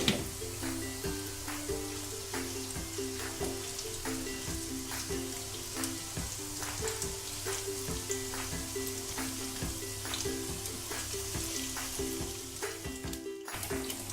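Chicken popcorn deep frying in hot oil, giving a steady, close, continuous sizzle with crackling bubbles throughout and no voices.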